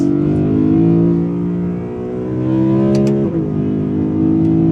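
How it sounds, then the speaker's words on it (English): Straight-six S54 engine of a BMW E92 M3 revving hard under acceleration, a loud, steady rising drone with a brief dip as the revs fall and pick up again, heard from inside the car with no talking. "Oh, the engine note. The S54 on song is a beautiful thing."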